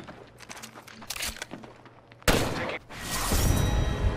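Gunfire in the Apex Legends game: scattered light shots and footsteps at first, then a sudden loud burst of fire with a brief gap and a sustained rattling volley after.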